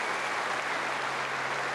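Tennis crowd at a fourth-round match applauding Tim Henman after he came back from two sets to one down, steady dense clapping filling the whole stretch without pause.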